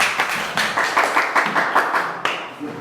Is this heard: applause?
yes